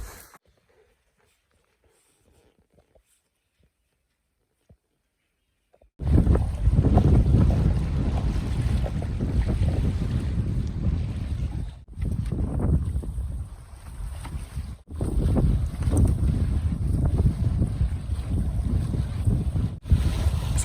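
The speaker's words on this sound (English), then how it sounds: "If you can't tell, it's very windy." After a few seconds of near silence, strong wind over a wilderness lake in the Boundary Waters roars steadily into the microphone, buffeting loudly with brief dips, along with faint water sounds.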